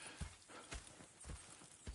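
Horse hooves clip-clopping at a steady walking pace in the open-world Western game Red Dead Redemption 2, four distinct thudding hoof falls spaced evenly, fairly close and clear over a soft ambient background.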